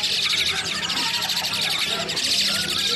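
Asian pied starlings chirp and chatter continuously amid the dense, busy bustle of a bird market, with people talking nearby throughout.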